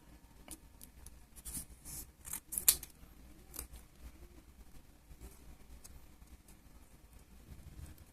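A sheet of paper is folded in half for a paper action figure, giving soft crinkles, light creases and brief sharp rustles at close range, with the loudest snaps near the middle and quieter handling around them.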